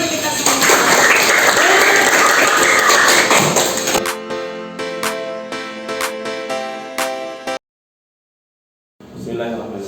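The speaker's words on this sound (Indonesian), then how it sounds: "tepuk tangan untuk kita semua" A class group gives a round of applause, loud dense clapping for about four seconds, then scattered slower claps and taps with voices over them, a brief silence, and more noise at the end.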